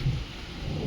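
Heavy rain outside under an overcast sky, a steady wash of falling water with a low rumble underneath, fairly faint and brief.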